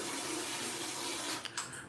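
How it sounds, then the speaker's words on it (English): A handheld bidet sprayer in a Vietnamese bathroom sprays water in a steady, close hiss for nearly two seconds, with a couple of brief splashy bursts toward the end. "That's the water coming out."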